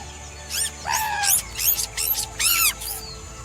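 Macaque monkeys giving a series of about six high, squeaky chirping calls in quick bursts, close and clear over quiet background, no human speech.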